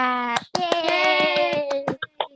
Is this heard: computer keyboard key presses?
no